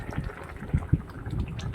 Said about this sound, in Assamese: অলপ সময়ৰ পিছতে চাইছোঁ ধুনীয়াকৈ উতলি গৈছে জোলখিনি।